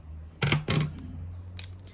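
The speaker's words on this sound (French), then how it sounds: "Indispensable, une paire de ciseaux." A pair of scissors handled close up, two quick sharp snips followed by fainter clicks and rustling over a low background hum.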